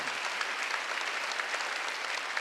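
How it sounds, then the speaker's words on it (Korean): A church congregation at a Wednesday worship service claps together, dense and even applause filling the room for the whole moment without pause. "박수 주세요."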